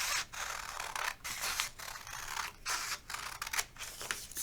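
Scissors cut through paper in a steady run of crisp snips, each cut a short rasping slice with brief pauses between, close and alone without talk.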